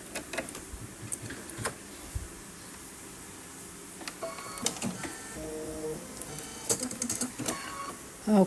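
An embroidery machine stitches a tack-down line on a mini quilted pillow keyring, giving a fast, steady mechanical ticking and clatter, fairly quiet and close, with brief louder clicks and no talking.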